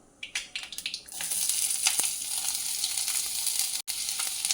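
Onions hit hot coconut oil and break into a loud, steady sizzle after a few sharp crackles, frying continuously and close by.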